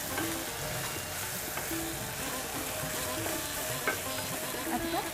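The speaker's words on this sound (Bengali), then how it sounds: "মশলাগুলো একটু ভাজা ভাজা হলে তারপরে মাংসটা দিয়ে দেওয়া।" Meat fries in a pan with spices, ghee and black pepper, giving a soft, continuous sizzle broken by repeated scraping strokes of a stirring spoon, fairly quiet and close.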